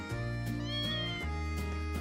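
A cat meows in the video game Trails of Cold Steel, a short clear meow over background music with a steady tonal drone.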